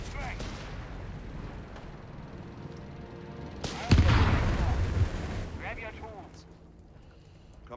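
In a Company of Heroes 3 match, a Humber armored car fires on a Panzer tank: rumbling gunfire and impacts swell into a loud burst midway, then fade, under continuous talking.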